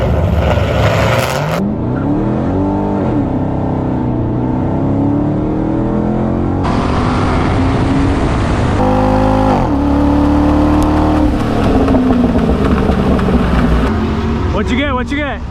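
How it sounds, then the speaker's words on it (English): Camaro and Corvette launching side by side at a Fast Lane Friday drag race, loud engines revving and climbing through repeated gear changes as they pull away, with crowd voices mixed in. "Some Camaro Corvette action right here."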